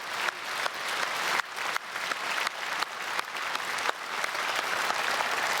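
A church congregation claps together during an early-morning special worship service, a steady, dense wash of applause that carries evenly through the whole stretch with no talking over it.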